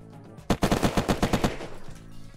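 Timberwolf gun firing in the video game Unturned: a rapid burst of about ten sharp shots in quick rhythm, loud and close, then fading into a softer tail.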